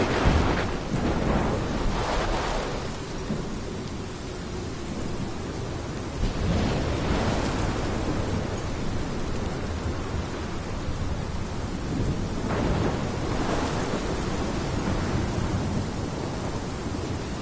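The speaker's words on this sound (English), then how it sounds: "This is my storm. I caused this. I caused all of this." Heavy rain pours steadily in a thunderstorm from the video game Life is Strange, with several deep rolls of thunder swelling and fading over the constant wash of rainfall.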